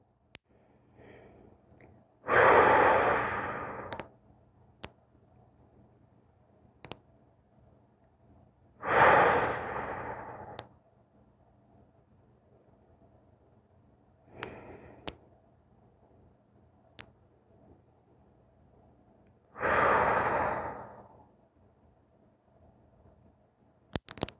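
Deep yoga breathing: four long, loud exhalations spaced several seconds apart, each a breathy rush, with quiet pauses and faint clicks between them.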